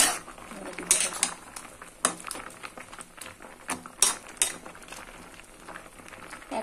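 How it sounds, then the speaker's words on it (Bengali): Vegetable curry with potato, eggplant and dried fish being stirred in a pot after salt goes in, with scattered scraping and clinking of a utensil against the pan over a soft bubbling background. "লবণ দেওয়ার পরে নেড়ে দিতে হবে।"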